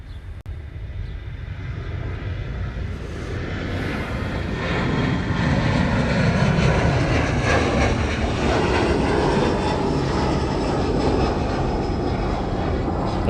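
A Northern Air Cargo plane flies past at Honolulu airport, its engine roar building from a distant rumble to a loud, sustained drone that holds steady near the end.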